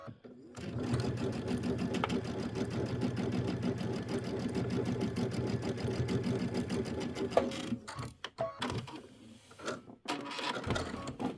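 Sewing machine stitching quilt blocks runs steadily at high speed for about seven seconds, then stops and gives way to a few scattered handling clicks and taps.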